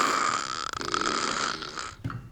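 A man snores with a long, rasping inhaled rumble and breathy buzzing, close and fairly clear, with no talk over it.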